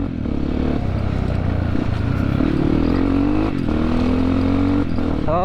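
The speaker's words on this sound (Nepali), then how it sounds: "त्यो केटाको बाइक बन्यो अब चल्दिने हो" Motorcycle engine droning steadily at close range as the bike sets off on a ride toward Kulekhani in Nepal, with rising pitch from gear changes and brief dips, loud and continuous with no talk.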